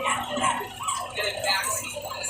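Pet dogs at home bark in busy, overlapping bursts close by, mixed with a person's voice, for the whole short stretch.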